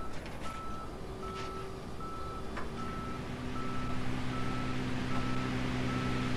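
In the Police Simulator video game, a reversing tow truck sounds a regular series of warning beeps, clear and fairly loud above a heavy, continuous engine rumble that grows slightly stronger partway through.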